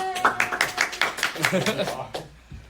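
A small group of student government committee members claps at a meeting after a bill passes, a quick run of about a dozen rhythmic, fairly quiet claps in a room before a voice speaks.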